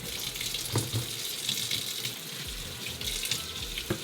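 Tap water running steadily into a sink while fruit is rinsed before juicing for a green juice, a continuous close splashing flow with small knocks and handling sounds, no talk.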